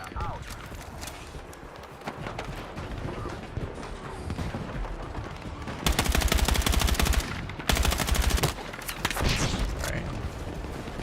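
Rapid bursts of automatic gunfire in the video game Doom, two loud sustained volleys over a busy game soundscape, with someone talking in between.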